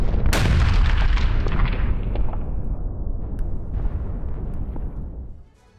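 A guided artillery shell strike on the eastern front line in Ukraine: one sharp, loud blast near the start, then a long rumbling roll that fades out over several seconds, with no voices.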